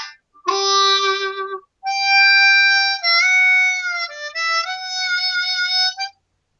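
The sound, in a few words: country tuned harmonica playing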